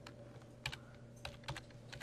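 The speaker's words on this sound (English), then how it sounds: "We're going to type in" Close, quiet taps on a computer keyboard: a short burst of about half a dozen crisp keystrokes in an uneven rhythm, alone in a still room.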